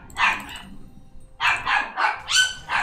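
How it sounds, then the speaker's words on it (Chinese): A small dog barking indoors at night, several sharp, close yaps in quick bursts with a brief pause between the first and the rest. "我的小狗每天晚上都能乱叫。"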